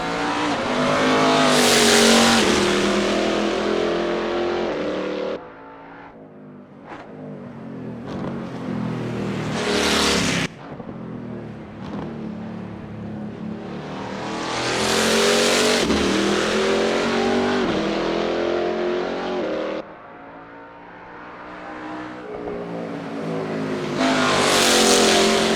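Race car engines heard from outside in Assetto Corsa with a GT Legends mod, loud revving passes that swell and fade repeatedly, with gear changes and occasional tire squeal.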